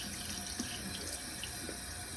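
Tap water runs steadily from a faucet into a sink, soaking a soapy paint roller cover, a continuous close hiss of splashing water with no talking.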